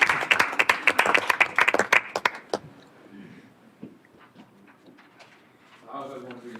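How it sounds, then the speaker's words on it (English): A youth council audience claps in a meeting room for about two and a half seconds, sharp hand claps dense and fairly near. The applause then fades into quieter room noise, and a voice comes in at the end. "You can clap for me."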